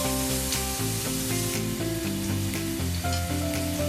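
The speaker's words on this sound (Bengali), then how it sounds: "একই প্যানে, চিংড়ি মাছ ভাজার প্যানটাতেই আমি আর একটু সামান্য তেল দিয়ে আমি পেঁয়াজ দিয়ে দিচ্ছি।" Onions frying in a little oil in the same pan just used for shrimp, a steady close sizzle under loud background music playing throughout.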